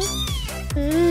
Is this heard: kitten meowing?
yes